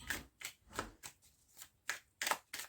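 Tarot cards shuffled by hand in quick, close riffling bursts, about eight soft flutters with short gaps between them, fairly faint and with no voices.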